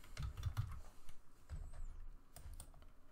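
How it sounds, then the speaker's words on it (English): Quiet, irregular tapping on a computer keyboard, a few short clusters of keystrokes with brief pauses between them, heard alone without speech. "So I'm just typing some random API key"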